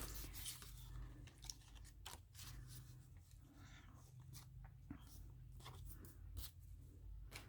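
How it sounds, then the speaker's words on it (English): Scissors cutting a picture out of a magazine page, with quiet, close snips and crisp paper rustles spaced irregularly over a low hum, no clear talking. "you see how I went ahead and just cut through her hand to cut out that white space"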